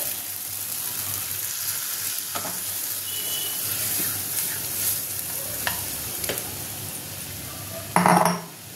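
Boiled masoor and mung dal are tipped into a pan of cooked-down masala, where they hiss in a steady low sizzle. A few faint clinks and scrapes from a utensil sound, and a sharper clatter comes near the end.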